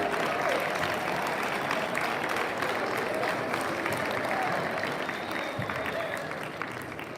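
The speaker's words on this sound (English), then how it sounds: "give all of these special award winners another round of applause" A school assembly crowd applauds seventh-grade award winners, a continuous, dense wash of clapping from many hands that holds steady and eases off near the end, with faint voices underneath.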